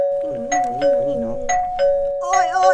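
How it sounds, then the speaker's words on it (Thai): A doorbell at the front of a house is pressed, sounding a few clear ding-dong chimes in a row before a brighter burst of tones at the end. "กริ่งที่หน้าบ้านก็มีกดตรงนี้สิ"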